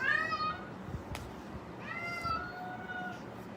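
A house cat whines indoors, reacting to neighbors heard outside, with two drawn-out, rising meows, one at the start and another a moment later, fairly close over a quiet room.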